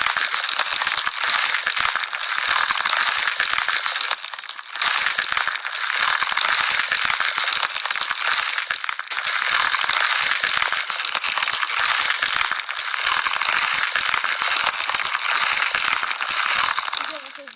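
Virtual slime squished on a phone in a slime simulator game app, giving dense, continuous crackly rattling and squelching clicks, loud and close, with short gaps between strokes.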